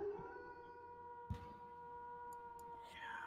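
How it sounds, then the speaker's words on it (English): Wolf-like howls play as a sound effect in an online tabletop game session: long sustained wavering tones, faint and layered, with a brief knock partway through. "It was just a bunch of howls."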